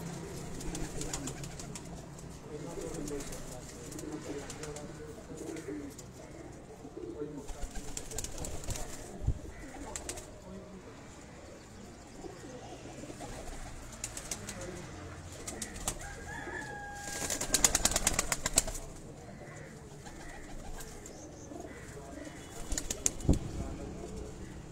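Breeder pigeons on a rooftop loft coo in low murmurs under light talk, with a few bursts of wing flapping, the loudest near the middle.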